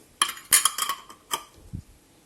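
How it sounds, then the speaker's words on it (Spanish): Glass jars of preserved melon clinking and knocking as they are set into a tall cooking pot, a quick cluster of bright taps followed by a couple of softer bumps. "en una olla alta vamos a colocar nuestros tarros"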